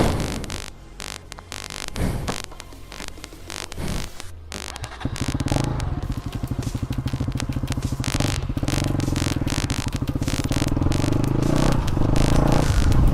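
A KTM Duke 200 motorcycle under way, its engine droning steadily and building over several seconds after a few clattering, handling noises at the start, close up and loud, with wind rush throughout.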